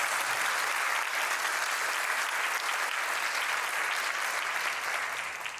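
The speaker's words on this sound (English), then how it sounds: "a round of applause for both Elizabeth Selm and Sonia" Dense, steady applause from a large audience at a medical research and education symposium honoring award recipients, loud and continuous throughout before easing slightly at the end.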